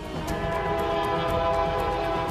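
An arriving train rolls in with a steady rumble and a sustained horn tone, heard close and continuous without speech.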